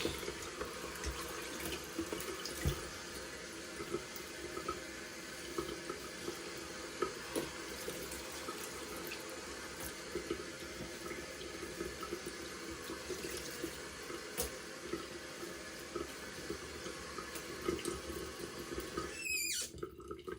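Cold water runs from a bathroom tap for a shaving rinse, a steady close hiss with small splashes that carries on alone for about twenty seconds before a brief squeaky sound near the end.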